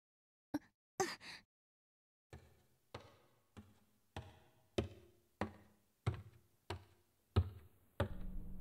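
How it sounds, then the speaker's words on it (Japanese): Old, badly decayed wooden stairs creak in a video game as footsteps descend to a basement, each step a separate dry creak or knock in a slow, even rhythm of about ten, close and clear over silence. "木でできた地下への階段はより一層老朽化が激しく、ミシミシパキリと折れそうな音を立てる。"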